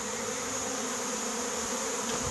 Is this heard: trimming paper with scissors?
no